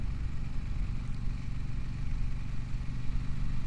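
A 2026 Aprilia RS660 Factory motorcycle engine under way on the road: a steady, dense low drone with constant engine rumble and wind, close and unbroken throughout, no voices.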